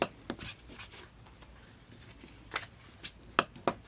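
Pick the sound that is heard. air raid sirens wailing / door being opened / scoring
scoring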